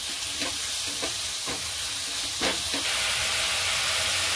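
Mixed vegetables stir-frying in hot oil for Schezwan fried rice, a loud continuous sizzle with occasional scraping stirs, close to the pan and without speech.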